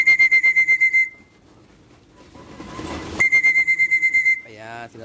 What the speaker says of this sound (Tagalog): sinasanay ko sila ulit sa pito